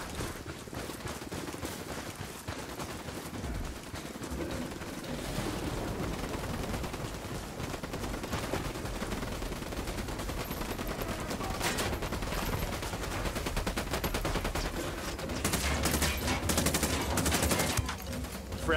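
Dense, sustained gunfire from the Ghost Recon video game: overlapping rifle and machine-gun bursts roar loudly and continuously, growing heavier toward the end with no pauses between volleys.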